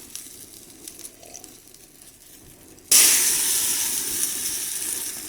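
Liquid is sprayed onto a grill fire, producing a sudden loud hiss that bursts in midway after quiet crackling and then slowly fades while continuing to sizzle.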